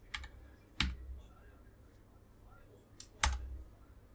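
Code is typed in the Unity editor on a computer keyboard, with a few quiet, isolated key clicks and two sharper keystrokes spaced apart against a faint background hum.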